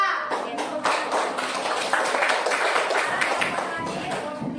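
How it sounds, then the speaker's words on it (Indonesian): A group claps in a steady burst of applause lasting several seconds, fairly close, with voices mixed in underneath. "Oke, tepuk tangan."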